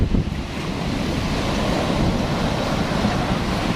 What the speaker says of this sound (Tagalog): Ang lakas din naman talaga ng alon eh,